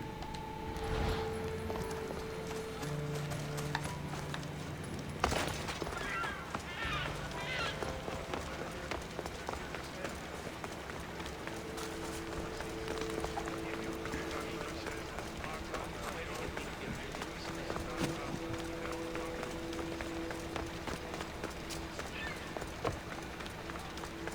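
Horse hooves in Assassin's Creed Odyssey on Xbox Series X, a steady galloping clip-clop running through the whole stretch under game music and ambience, with a voice talking over it.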